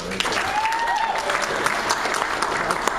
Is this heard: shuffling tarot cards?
no